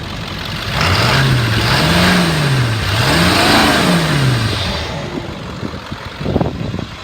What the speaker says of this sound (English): I'm gonna rev it up so you can hear the motor.